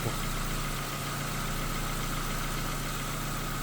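A 1.6-litre MPI BSE petrol engine idles with the timing belt fitted and covers off, giving a steady, close, even hum with a faint rhythmic tick throughout and no talk.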